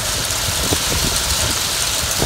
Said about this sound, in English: It's hitting the walls instead of going down in the pile.